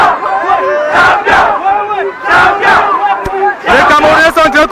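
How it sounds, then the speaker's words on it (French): A large Cameroonian crowd at the Douala International Marathon roars and chants in loud, rhythmic waves of voices, rising and falling together near the finish celebration. "Regardez la joie du public camerounais"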